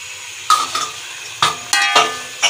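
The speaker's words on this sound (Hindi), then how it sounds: "तो ये डाल दिया चिकन। अभी हम इसको करेंगे क्या करेंगे, भुनेंगे।" Chicken frying for biryani, stirred in a pot with a metal spoon, giving five sharp scraping clanks over a low background sizzle, close and loud.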